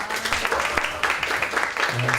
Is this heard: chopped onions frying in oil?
no